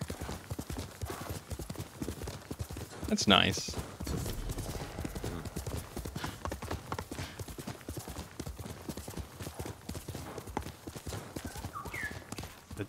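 Horse hooves clip-clop steadily at a gallop in the video game Ghost of Tsushima, with a brief whinny near the start, while a person talks over the rhythmic footfalls.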